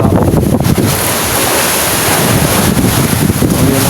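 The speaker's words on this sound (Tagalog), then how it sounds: "4 na klase ang alon dito guys" Rough ocean waves roar continuously at sea under heavy wind, with strong buffeting of the microphone, loud and dense with no pauses, near an approaching storm's eye.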